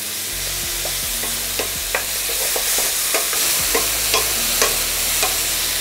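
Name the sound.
minced meat frying and stirred in pan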